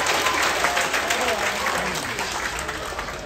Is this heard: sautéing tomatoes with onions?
no